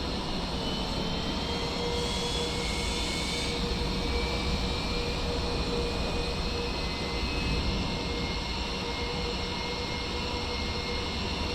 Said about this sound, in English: Left start valve is open. Here's N2. Clear to start engine.